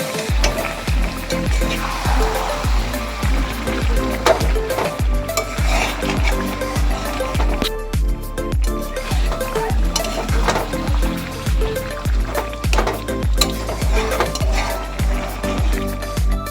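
Chicken chap sizzles loudly and steadily in a hot pan while a spatula scrapes and stirs it in a regular rhythm, close up and without talk.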